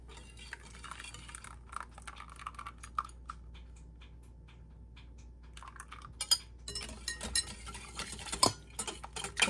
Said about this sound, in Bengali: এটাও ভালোভাবে মিশিয়ে নিত যে আমার এই ঘি বাটার এবং চিনি ডিম ভালোভাবে মিশানো হয়ে গিয়েছে